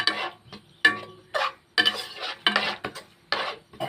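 Masala curry with water for a Kerala-style egg roast is stirred in a pan, a series of close, scraping swishes from the spoon in an uneven rhythm, with faint sizzling in the short gaps.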